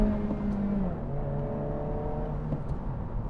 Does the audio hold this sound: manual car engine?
yes